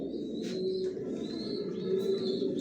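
Pigeons cooing steadily in a breeding loft holding many pairs, a continuous low throaty murmur with soft overlapping coos and a few faint higher chirps, fairly close and without pause.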